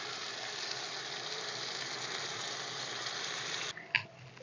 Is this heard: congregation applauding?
no